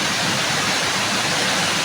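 Water running through a deep spot rushes in a loud, steady, broadband wash, close and continuous, with no voices.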